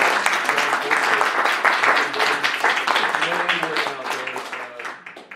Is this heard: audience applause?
yes